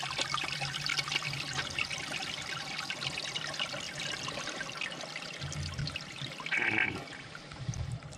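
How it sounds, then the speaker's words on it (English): A backed-up toilet is flushed, giving a long rushing, gurgling flow of water that trickles on for several seconds, with a louder surge near the end, close by and with no talking. "You flush it, what's going to happen?"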